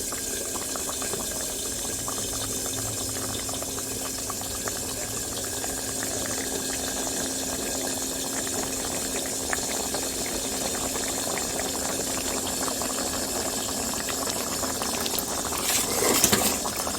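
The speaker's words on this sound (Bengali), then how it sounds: "দেখো ফোটা শুরু হয়ে গেছে" Water simmering in a pot with taro roots for egg curry, a steady low bubbling hiss that holds evenly throughout, with a brief louder burst of bubbling near the end.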